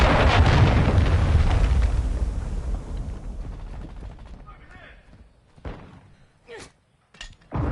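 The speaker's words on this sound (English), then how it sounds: "Hostile cruise missile launched." A cruise missile blast in the Modern Warfare 2 shooter opens as a loud, sustained low rumble that slowly fades over several seconds, followed by a few sharp, separate impacts and clicks near the end.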